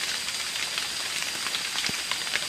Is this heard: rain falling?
yes